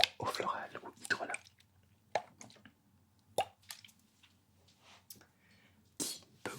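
Floral water (hydrolat) dabbed onto skin during a men's ASMR skincare layering routine gives soft wet drips, plops and squishes in scattered bursts, close and quiet, with faint breathy whispery sounds between them.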